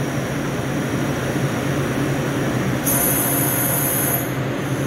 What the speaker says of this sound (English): That's the hot gas valve going.